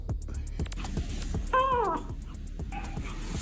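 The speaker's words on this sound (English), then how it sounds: "Oh, I hear a cat." A cat meows once in a drawn-out, wavering call near the middle, set against a steady background of faint clicks and room noise, with a softer second cry following shortly after.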